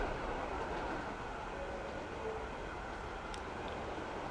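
Trains run in the video game Transport Fever 2, a steady low rumble of rolling rail wagons with a faint brief signal tone, constant and unbroken with no talk.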